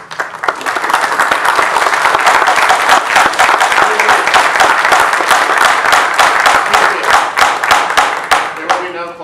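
Audience applause fills a public Board of Elections meeting, steady dense clapping from a crowd sustained for about nine seconds and tapering slightly at the end, loud and close with a murmur of voices mixed in.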